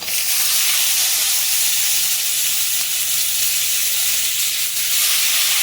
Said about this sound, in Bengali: দিয়ে ভালো করে একটু টমেটোটাকে ভেজে নেবে